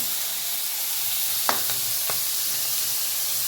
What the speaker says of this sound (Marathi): आपण याच्यात तेल टाकून घेऊ